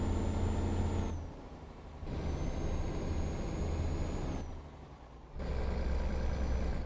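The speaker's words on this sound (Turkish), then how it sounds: "Arkada da 20 ton var. Araç biraz zorlanıyor tabi çıkmakta." A truck hauling a 20-ton load labors uphill on a mine road near Kirkenes, its engine droning low and loud. The drone drops off twice as gears change, then comes back each time, with no talk over it.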